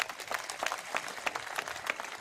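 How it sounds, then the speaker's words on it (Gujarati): Audience applause at a BJP booth workers' political convention in Navsari, Gujarat, a steady crowd clapping with uneven rhythm that sounds a little distant and thin, carrying on for a couple of seconds without speech. "ચાલો એકવાર બધા એક સાથે તાળી પાડી દો"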